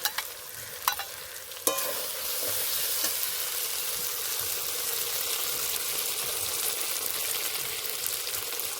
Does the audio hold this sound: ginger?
yes